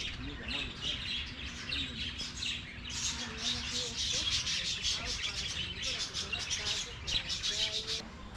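Many small birds chirp and tweet busily at a wildlife rescue zoo in rapid overlapping bursts, fairly close, with a low hum beneath and a voice briefly heard.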